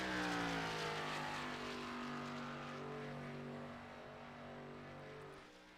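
An ARCA number 13 Impala race car runs down the Daytona backstretch, its engine a fairly faint, smooth roar with sliding pitch as it passes and fades away.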